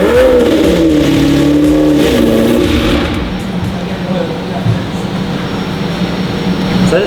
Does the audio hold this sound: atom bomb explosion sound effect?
no